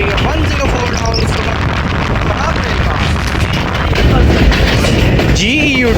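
Passenger railcar train 104 Down rumbles along the tracks near Gujar Khan station on the Rawalpindi to Lahore run, a loud, dense continuous roar with rattling that swells slightly toward the end.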